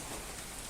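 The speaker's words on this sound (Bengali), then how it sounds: "বৃষ্টি নামবার লাগছে এখনো।" Steady rain falls in a village in the morning, an even close hiss of drops on surfaces with no voices and no thunder.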